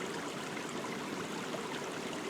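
A creek flows steadily past an orchard where beavers live, giving a continuous, even rush of running water that stays at a moderate level throughout with no voices.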